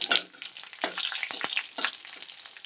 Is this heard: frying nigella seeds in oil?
yes